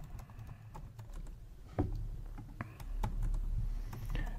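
Typing a username and email on a computer keyboard, soft rapid key clicks with a few louder taps, close and fairly quiet, no voices.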